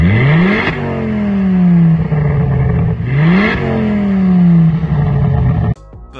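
A Stage 1 Ford Focus ST Mk2.5 with an upgraded exhaust revs hard twice, each rise climbing sharply then falling back into a loud rumbling idle, close and alone, ending with a clatter.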